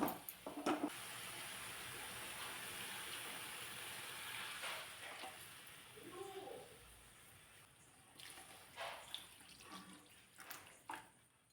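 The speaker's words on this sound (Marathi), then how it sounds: "छोटे दोन ग्लास पाणी यामध्ये घातलेलं आहे" Water poured into a cooking pan, a steady rushing hiss that fades out, followed by a few soft clinks and scrapes.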